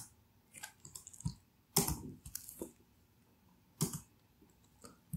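A few sharp keyboard clicks and key presses, sparse and irregular, with louder strikes in between, like shortcut keys being hit on a computer keyboard; no voices.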